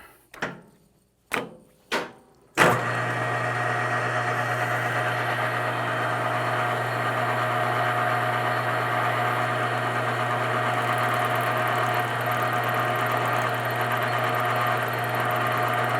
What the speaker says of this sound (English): I'm going to speed up the lathe a little bit.